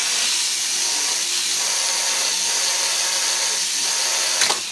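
Drill bit reaming out an antler knife handle, a continuous close whirring grind throughout with a brief sharp scrape near the end.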